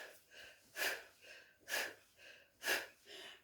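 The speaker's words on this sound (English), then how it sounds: "You can hear me breathing, I'm sure." Heavy, rhythmic breathing during a cardio workout, close to the microphone, with three strong forceful exhales spaced about a second apart between softer breaths.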